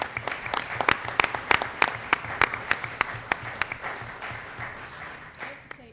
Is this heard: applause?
yes